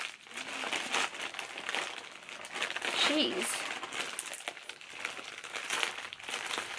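Plastic bubble wrap and tape crinkle and rustle steadily as a Corpse Bride Emily plush collectable is unwrapped, close up, with someone talking briefly over the handling.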